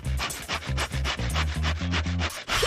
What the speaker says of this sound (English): And saw off the extra.